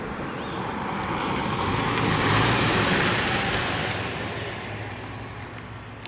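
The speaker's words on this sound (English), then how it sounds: "There's another vehicle coming." A vehicle passes along a road nearby, its broad rushing noise swelling toward the middle and fading away again, heard from the roadside outdoors.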